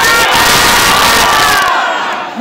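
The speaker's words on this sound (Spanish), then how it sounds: "Y ahora sí quiero que griten a quien quieren ver." A convention crowd at the Budokan 2017 cosplay event shouts and cheers together, a loud dense roar of many voices with whoops that holds, then drops off abruptly near the end.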